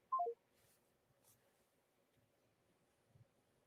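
Short burst of telephone dialing tones, three quick descending beeps at the start while redialing a dropped call, followed by quiet line hiss and faint clicks.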